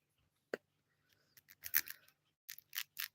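A fingernail being trimmed with clippers or scissors during a quiet late-night chat: a sharp single snip, then a quick cluster of clicks and a few more snips, close and crisp, with no talking over it.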